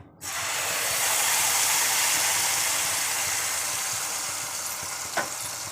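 Mustard and green chili paste dropped into hot oil bursts into a loud, steady sizzle and hiss that starts abruptly and then fades slightly, with one brief clink near the end.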